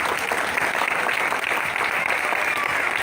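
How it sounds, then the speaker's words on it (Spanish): A church congregation applauds during a sermon: dense, steady clapping from many hands fills the room at an even level throughout, with no break. "Ese aplauso"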